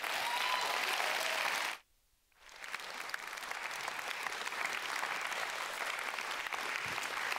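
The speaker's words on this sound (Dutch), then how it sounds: "Een applaus voor Astrid Roemer en Maria Vlaar" Applause from an audience at a literary evening, steady clapping that cuts out abruptly near two seconds, then resumes and continues evenly to the end.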